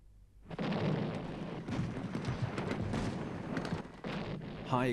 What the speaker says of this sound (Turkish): ve topçu ateşi başlıyor. Güçlü top mermileri uzaktaki tepelere düşüyor